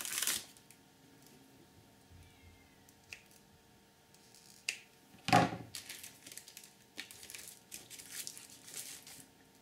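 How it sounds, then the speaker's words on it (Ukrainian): Scissors cutting rubber craft stamps into two parts for a scrapbook page, heard as a quiet scattering of snips and rustles with one louder crisp cut midway, close and otherwise quiet. "щоб спростити собі роботу, я розріжу ці штампи на дві частини"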